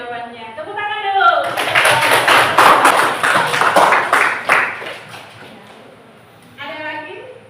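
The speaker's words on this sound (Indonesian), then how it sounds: "Tepuk tangan dulu." A classroom group claps hands together in a burst of several seconds of dense, fairly close clapping, with a teacher's voice speaking before and after.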